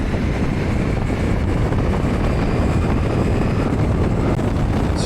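Steady, loud wind roar buffets the microphone while riding a 2025 Ducati Multistrada Pikes Peak V4 motorcycle on a main road, a dense continuous rush with no talking.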